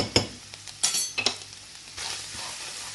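A spoon stirs mixed masala into samosa filling in a pan, a few distinct scraping and clinking strokes over a soft sizzle, close by.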